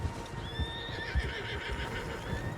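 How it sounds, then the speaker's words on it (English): Horses in the Red Dead Redemption video game whinny over a steady clip-clop of hooves, with several animals moving together and a continuous background of game ambience, no talking. "Horses, quite a few of them."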